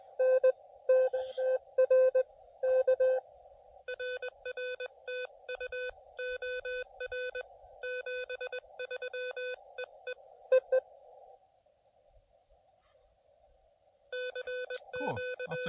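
Morse code CW signals heard on a low-power portable park radio setup, crisp keyed beeps in bursts with short pauses, one quiet stretch of faint tone, then keying resumes alongside a brief rustle at the end.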